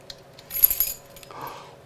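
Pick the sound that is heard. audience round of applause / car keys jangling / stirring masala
car keys jangling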